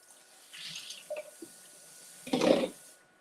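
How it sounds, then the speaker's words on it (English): Water from a kitchen sink tap splashes as a utensil is rinsed, with small clinks and drips before a fuller, louder gush near the end. No one speaks. "All right, so we're just gonna rinse and reuse."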